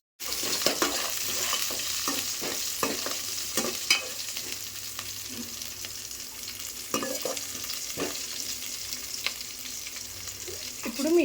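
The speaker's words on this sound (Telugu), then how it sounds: "ఇప్పుడు మిర్చీస్ అయితే వేగిపోయినాయి కదా" Green chillies frying in oil in a pan, a steady close sizzle with frequent spatula scrapes and light metallic taps, no one speaking.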